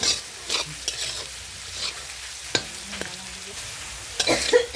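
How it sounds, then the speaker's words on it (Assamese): Soft frying sizzle of nuts, cashews and raisins in a pan with irregular scraping and clinks of a spoon stirring the contents, quiet and close. "এইখিনি অলপ ভাজি ল'ম"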